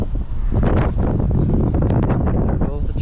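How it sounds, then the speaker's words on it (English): Strong wind at a pond buffets the microphone in a constant, loud, low rumbling roar with surging gusts throughout. "This wind is crazy, you guys."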